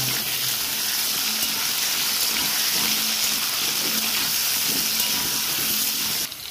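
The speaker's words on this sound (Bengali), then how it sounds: "তেলটা গরম হয়ে গেছে, এর মধ্যে আমি যে আলুগুলো কেটে রেখেছিলাম সেগুলো একটু হালকা করে ভেজে নেব।" Sliced potatoes seasoned with salt and a little turmeric fry in hot oil, giving a loud, steady, close sizzle that hisses evenly throughout with no pauses.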